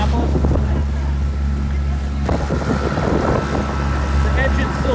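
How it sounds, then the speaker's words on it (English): A motorboat engine runs steadily through a Chesapeake Bay delivery run arriving in Annapolis, a loud continuous low drone with wind buffeting the microphone and water noise over the top. "The engine's still rocking."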